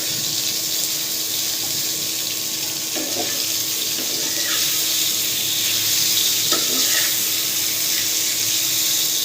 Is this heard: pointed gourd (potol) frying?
yes